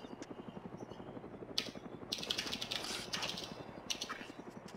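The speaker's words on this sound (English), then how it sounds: "Oh shit, chopper, get down" Helicopter in the video game Arma 2 passing overhead, a dense rhythmic rotor chop throughout with whooshing broadband swells as it nears, fairly loud and unbroken.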